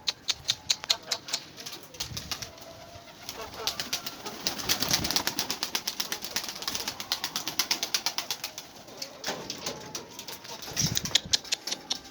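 Heavy flying pigeons of a blue breed in a loft, cooing amid steady rhythmic clicking and wing flutter, a busy close-up flock sound with no voices.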